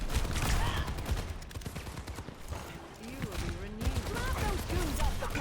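Ashe hip-firing her rifle in the Overwatch 2 video game: loud repeated shots and bursts through a busy battle mix, with a voice talking over the action.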